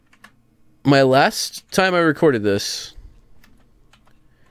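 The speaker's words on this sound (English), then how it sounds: "I'm pressing every button on my keyboard to try to find the... thing for this." A computer keyboard is typed on during a Minecraft Tekkit Legends play session, with faint scattered key clicks under a person speaking close to the microphone.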